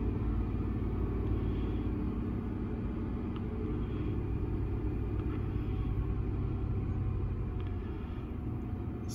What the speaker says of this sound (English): For this test, I want to rev it to 1500